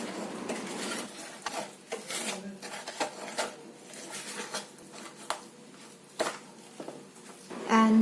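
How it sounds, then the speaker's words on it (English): Pancake batter with milk and olive oil being mixed in a bowl, producing repeated scraping and rubbing strokes of a utensil against the bowl in an uneven rhythm, close and moderately quiet. "Mix it well again."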